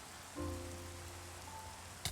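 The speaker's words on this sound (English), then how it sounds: "I'm going to run under the rain for 1 second." Steady rain hissing down in a Minecraft world, a broad soft wash that starts abruptly and holds at moderate level, with faint tonal game ambience underneath and a sharp brief sound at the very end.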